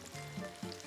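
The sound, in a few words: squash pie frying in olive oil in frying pan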